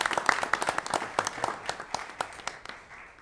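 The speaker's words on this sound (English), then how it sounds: "Let's give them a warm round of applause." Scattered audience clapping at a Putnam County Board of County Commissioners meeting, a moderate burst of claps with a steady, slightly uneven rhythm that continues for several seconds.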